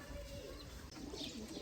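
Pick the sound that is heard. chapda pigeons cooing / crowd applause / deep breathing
chapda pigeons cooing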